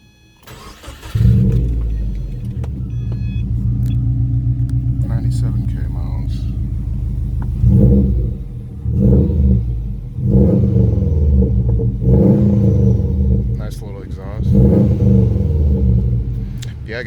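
A Subaru WRX hatchback with about 90,000 miles cranks and starts, then settles into a steady, close rumbling idle with a few throttle blips. A voice speaks briefly over it.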